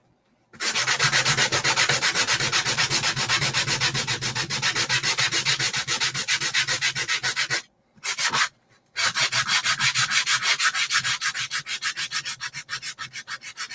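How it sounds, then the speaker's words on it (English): Hand sanding scrubs back and forth across a painted wooden farmhouse craft sign, a loud, close, fast rasping rhythm with a brief pause partway through, then the strokes resume and slowly fade. "I'm just sanding over the words"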